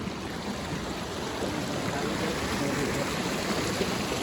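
Stream water rushes near the Badva waterfall outside Netrang in Bharuch, a steady, dense wash of flowing water that holds even throughout, with no talking.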